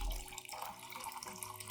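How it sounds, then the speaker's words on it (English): Clean room-temperature water pours steadily into a container to dilute a plant nutrient solution, a continuous trickling splash heard close up and alone for a couple of seconds. "Add 500 milliliters of clean room temperature water to dilute the solution."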